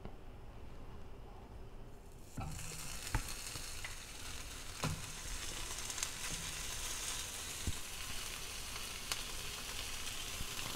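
Three equal-sized slices of Spam fry in a hot pan over medium-high heat, giving a loud, steady sizzle that starts suddenly and carries faint pops and clicks throughout.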